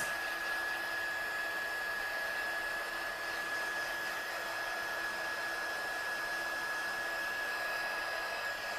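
A hair dryer blows steadily on watercolour paper, giving an even, loud, continuous whirring rush that stays level throughout with no speech.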